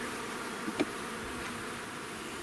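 Calm honeybees hum steadily at an open hive in a quiet, even drone, with a couple of brief soft knocks near the start and no voices.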